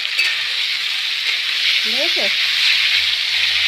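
Pasta sizzling and frying in a pan while being stirred, a steady loud hiss close by with a brief utensil scrape, and someone speaks a single short word over it.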